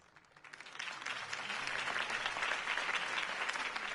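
Crowd applause swells after a campaign speech for Harvey Dent in a Batman episode, a soft start quickly building into a steady, dense roar of clapping that holds to the end.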